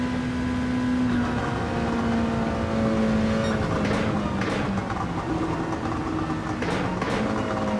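A race car in Gran Turismo 7 during an endurance race holds a steady, droning engine tone with occasional gear changes, pitch shifting up and down, faint voices heard beneath.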